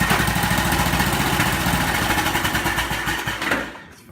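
Hustler Raptor SD lawn mower engine, warm-started without choke, running steadily with a loud, close, even mid-pitched drone and rapid firing pulses before it drops off near the end.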